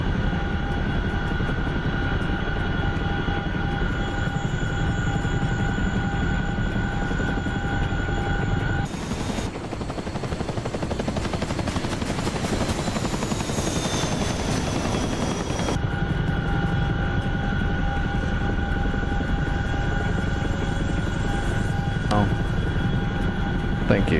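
An aircraft making its approach to a runway in a flight simulator combat game, carrying a steady loud engine drone with a rising swell in the middle.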